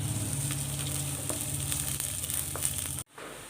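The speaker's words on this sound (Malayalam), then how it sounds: "രണ്ട് പച്ചമുളക് കീറിയത് അതും കൂടെ ഇട്ട് ഒന്ന് വഴറ്റിയെടുക്കാം" Slit green chillies sizzle as they sauté in a hot pan for a pumpkin moli, a close, steady crackling fry with faint stirring, cutting off sharply near the end.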